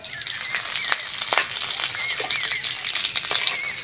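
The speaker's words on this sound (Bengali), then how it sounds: "ভালো করে ভেজে নেবো কাজু কিশমিশটা।" Cashews and raisins fry in a pan of hot oil, giving a steady close crackling sizzle with sharp pops and light stirring scrapes throughout.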